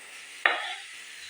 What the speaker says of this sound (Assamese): মিডিয়াম ফ্লেমত মই এইখিনি ভালদৰে ভাজি ল'ম।